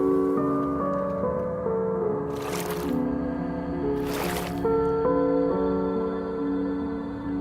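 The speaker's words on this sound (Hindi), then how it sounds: "ओ पानी" Water sounds in a video game: two bursts of splashing or gushing, each about half a second long, over a steady tonal game soundtrack with no speech.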